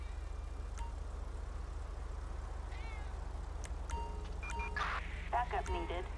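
Cat in the GTA V LSPDFR video game: a few short meows and chirpy calls over a steady low idling car engine, with a voice talking in the middle.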